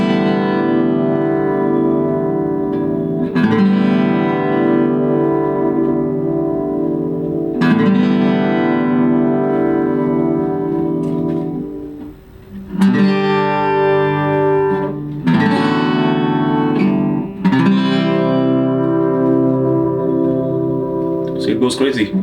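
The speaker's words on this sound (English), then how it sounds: "So this is supposed to be chorus and reverb." Enya EA X1 Pro transacoustic guitar strummed in repeated chords through its built-in chorus and reverb effects, each loud strum ringing out with a shimmering, washy tail before the next, sounding close and full.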